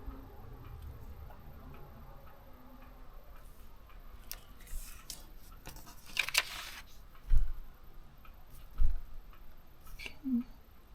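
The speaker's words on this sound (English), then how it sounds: "I'm going to trim around the wreath." Scissors trim paper around a wreath for a Christmas box project, giving a few quiet snipping clicks near the end under faint room noise.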